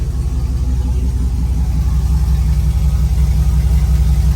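A car engine with newly installed long tube headers runs steadily nearby, a low even throbbing idle with a regular pulse and no voices.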